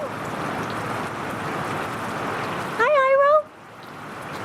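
Steady rain hisses and patters, then a person calls out a brief greeting; afterward the rain continues more faintly.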